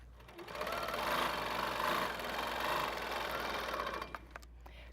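Longarm quilting machine basting down the sides of a quilt, a continuous close mechanical stitching whir with rapid needle chatter, steady for about four seconds before easing off into a few clicks.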